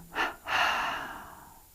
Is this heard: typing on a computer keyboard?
no